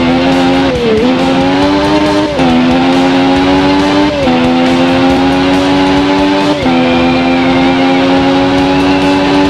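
In a motorcycle racing video game, an engine revs continuously and loudly, its pitch dropping and climbing again through several gear shifts over tire noise, with no talking.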